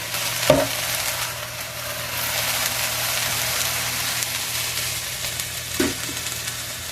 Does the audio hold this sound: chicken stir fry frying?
yes